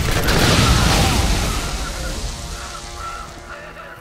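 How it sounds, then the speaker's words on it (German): A grenade blast in the video game Borderlands: a loud, broad boom at the start that rolls off into a decaying rumble over several seconds, with faint game sounds trailing behind. "Granate!"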